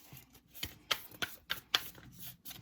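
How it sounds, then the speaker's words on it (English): A deck of tarot cards being shuffled close by in a quiet room, with several crisp riffling bursts roughly every third of a second between soft shuffling rustles, and no voices. "Two more shuffles and I'll cut the deck."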